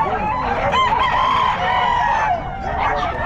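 A rooster crows loudly and close by at a pet market in Bulacan, its long rising call repeated, with hens clucking around it.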